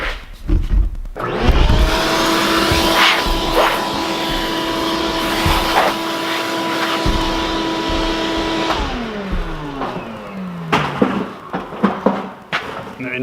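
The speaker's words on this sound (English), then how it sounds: "Let's grab the vacuum and clean that up" A vacuum cleaner clearing debris off a heavy-duty workbench runs with a loud steady whine and roar, then winds down after about nine seconds, followed by clattering and knocks.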